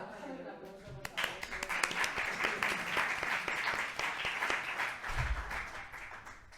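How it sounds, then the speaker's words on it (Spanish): An audience gives a talk speaker a sustained round of applause, with dense, steady clapping that fills the room. A few voices can be heard murmuring underneath. "Así que por favor, vamos a hacer un aplauso, por favor."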